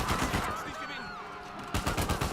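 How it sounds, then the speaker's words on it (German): Gunfire erupting in a market in the video game Uncharted 4, bursts of shots at the start and again near the end, with quieter game ambience in between. "was ja Assis, die da Mitte auf dem Markt rumschießen"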